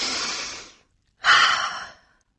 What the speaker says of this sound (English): I close my eyes and take a deep breath.